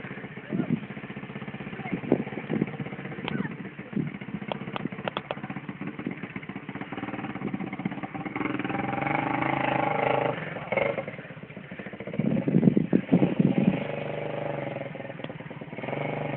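400cc dirt motorcycle on a hill, engine idling and revving in bursts with clattering tire and gravel noise, heard near and alongside people talking.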